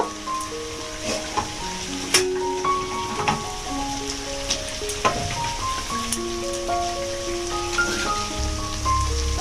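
Tomato dropped into a pan of frying katla fish curry with spices: a steady close sizzle crackling like rain, with scattered pops and spatters throughout and no speech.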